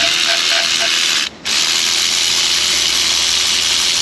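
A ratchet loosens 18 mm bolts on a bracket during water pump work on a Chevy Equinox 3.6L. A continuous close mechanical clicking runs with a brief pause in the middle.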